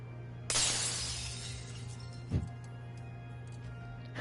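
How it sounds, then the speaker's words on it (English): Glass shatters in the video game Wuthering Waves, a sudden bright crash followed by tinkling fragments, then a single thud a couple of seconds later over a low steady hum. "That wasn't a bang, that was the sound of glass breaking."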